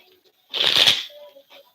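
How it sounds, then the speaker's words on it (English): A single quick riffle of shuffling cards up close, followed by a faint hum. "I'm going to shuffle one more time."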